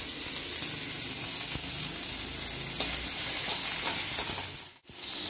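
Thin, long capsicum strips fry in hot oil in a wok, giving a loud, continuous close sizzle and hiss that fills the whole clip before a brief sudden dip near the end.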